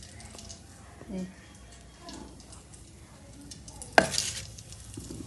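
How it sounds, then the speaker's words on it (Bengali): Potatoes frying lightly in hot oil in a home kitchen, a soft steady sizzle with faint stirring scrapes and a sharper burst of sizzle near the end, while a person talks over it. "ছেলে জল গরম দিতে দিতে হালকা করে ভেজে নিচ্ছি"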